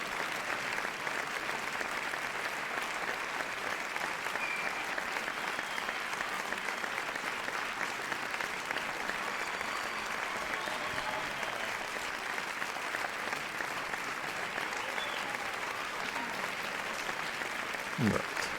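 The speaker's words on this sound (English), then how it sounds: "have the applause going as I look up the file for the next game" Steady applause from a crowd, sustained clapping at an even level throughout with no pauses.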